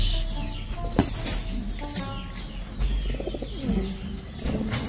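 An ice pigeon coos in soft, repeated, throaty calls, close by, with faint chirps and light rustling around it and no talking.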